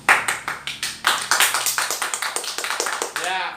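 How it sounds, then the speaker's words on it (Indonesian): A classroom full of students claps in a quick, ragged burst of many overlapping hand claps, close and lively, and the applause fades toward the end. "Beri tepuk tangan"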